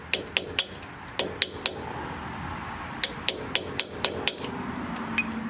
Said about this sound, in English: we're going to hammer these two in there.